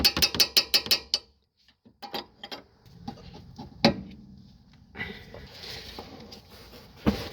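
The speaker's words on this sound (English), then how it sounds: "you have to loosen the nut here." A wrench ratchets in a quick run of sharp clicks while loosening the nut on an Audi A4 B7 tie rod, then after a pause come scattered metallic knocks and clanks of tool work, close and loud.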